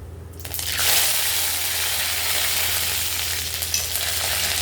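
Loud, steady sizzling of urad dal and curry leaves frying in hot oil after mustard seeds swells up after a moment and continues, with faint stirring scrapes beneath.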